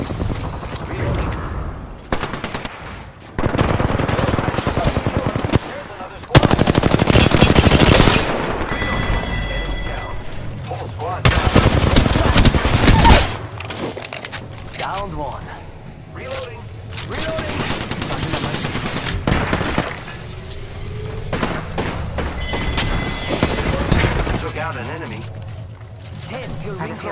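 Bursts of automatic gunfire from Apex Legends, rapid loud volleys starting and stopping across the stretch, with mechanical reload clicks in between and a player's voice talking over the fighting.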